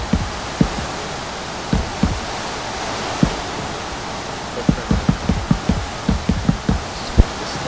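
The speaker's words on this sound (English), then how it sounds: "Yes, it's raining." Steady hiss of rain falling in Minecraft, with scattered louder droplet taps and plinks landing irregularly, no voices.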